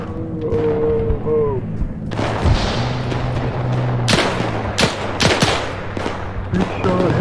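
Gunfire in the video game Arma 3, in a WWII battle for Berlin: loud, dense bursts and sharp cracks running across the clip, some booming thuds, layered over a constant battle din with a tonal game sound near the start.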